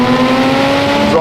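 Jaguar F-Type sports car engine revving loudly and close, a strong steady growl with clear harmonic tones that rises near the end.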